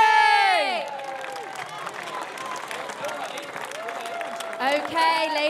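Outdoor crowd at a sailing-race dock-out parade cheers and applauds for the Spanish MAPFRE crew, a broad wash of shouting and clapping with whistles, swelling at the start and again near the end.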